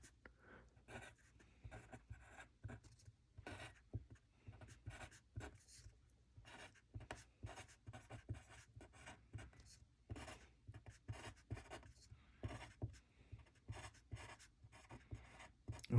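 Pencil writing numbers on paper, close and quiet, with a steady run of short scratchy strokes and taps separated by brief pauses.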